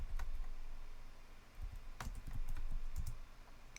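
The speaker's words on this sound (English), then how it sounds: "you can type the command clear." Quiet keystrokes on a computer keyboard as a command is typed into a Linux shell, coming in short clicking clusters with brief pauses between them.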